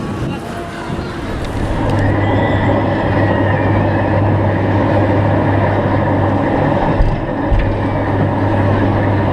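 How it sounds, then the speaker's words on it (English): A theme park monorail runs with a steady rolling rumble and a sustained low hum that builds in the first two seconds and then holds at a loud, close level. Crowd or speech sounds mix underneath. "It's got the monorail."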